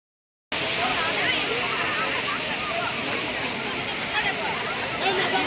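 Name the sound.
Kovai Kutralam waterfall, rushing water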